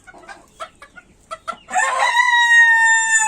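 A rooster gives one long, loud crow up close, preceded by a few short clucks and scratchy noises.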